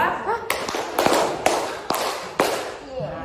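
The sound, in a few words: audience clapping a 3-2 rhythm pattern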